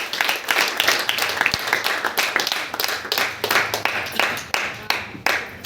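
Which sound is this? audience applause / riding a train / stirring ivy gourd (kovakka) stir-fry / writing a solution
audience applause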